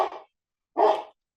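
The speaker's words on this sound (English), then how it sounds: "Sorry about the dog, someone's knocked on my door again." A dog barks at a knock on the door, two short close barks separated by a brief silence, loud and sharp with nothing else around them.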